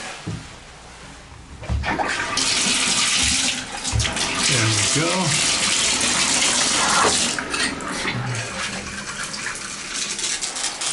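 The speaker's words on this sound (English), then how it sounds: "you can see the water pressure is terrific." A bathroom shower with a T2000 shower head runs at strong pressure in an apartment unit, a loud, steady rush of water that starts after a short pause and continues to the end, with brief talk over it.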